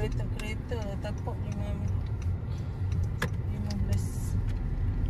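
A car creeps toward a parking spot at a Malaysian eco-tourism campsite resort, its low engine rumble steady and close beneath people talking, with a few light clicks and rattles.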